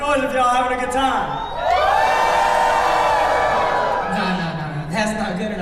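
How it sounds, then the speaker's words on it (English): Wedding guests at a resort whoop, shout and cheer in a lively burst of crowd noise, with excited voices rising and falling and a few laughs mixed in over about five seconds. "Make some noise if y'all having a good time."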